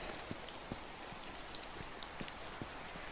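Soft, steady rain falls in the medieval game Medieval Dynasty, a faint continuous patter with scattered light drop taps and no voices.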